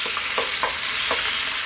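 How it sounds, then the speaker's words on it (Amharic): Chopped onions fry in cooking oil in a pan and get stirred, giving a loud, continuous close-up sizzle with a few scraping stir strokes and no talk. "ይሄ ለ3 ደቂቃ በደንብ አድርገን እንጠብሳለን"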